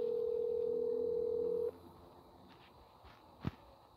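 Steady ringing call tone from a phone in a video game, holding for under two seconds before cutting off, followed by faint low noise and a single brief thump.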